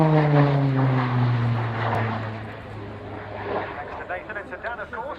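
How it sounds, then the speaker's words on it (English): A Tucano turboprop aircraft approaches to land, its propeller drone loud and steady before fading, with a voice speaking over the engine noise. "Tucano, clear to land, runway 27"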